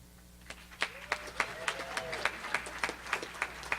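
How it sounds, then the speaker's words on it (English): An audience at a high school athletic hall of fame induction ceremony applauds the selection committee, with a steady run of claps and sharp hand-slap peaks repeating through the moment, moderately close and without speech over it. "you could give one round of applause for the selection committee"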